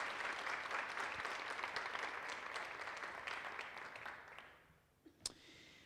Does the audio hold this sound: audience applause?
yes